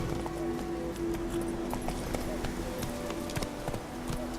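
Horse galloping in The Witcher 3, steady rapid hoofbeats over a constant game soundscape with a faint tonal layer.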